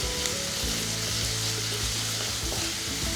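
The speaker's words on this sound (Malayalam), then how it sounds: "സവോള നന്നായിട്ട് വഴന്നുകൊണ്ടിരിക്കുമ്പം തന്നെ" Two sliced, salted onions sautéing in a pan for Kerala erachi choru, a loud, dense, continuous sizzle and frying hiss heard up close, with no voices over it.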